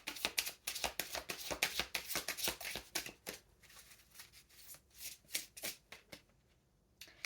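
Tarot cards being shuffled by hand, a quick flurry of crisp riffling flutters close up, then slower, softer bursts of card handling with short pauses, fairly quiet and without talk.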